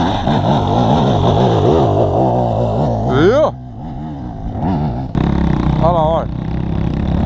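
A trail motorcycle revs hard climbing a muddy hill on a dirt trail ride in Brejo da Pinga, loud rising and falling engine bursts close by, with people talking and shouting over it.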